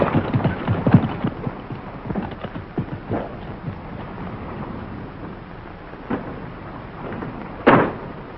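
Horses' hooves clip-clop irregularly near a fisherman's hut, loud thuds early on easing into quieter, scattered steps, with no talking.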